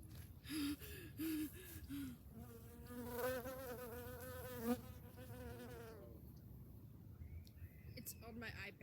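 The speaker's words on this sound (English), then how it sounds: "Oh my god, there's a bee." A bee buzzing close by in a garden, its whine wavering near and loud, with gasps and excited talk from a person mixed in.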